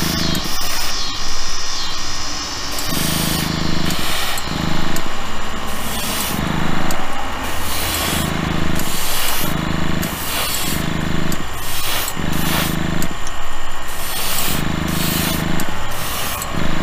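A spray gun lays candy paint over a metallic base on a custom Chevy panel van body, loud continuous hissing bursts that start and stop in a regular rhythm, no talking.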